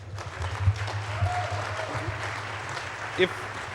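Applause at a security conference talk, a modest ripple of clapping from the audience under a steady low hum, with a few louder claps standing out and some speech nearby.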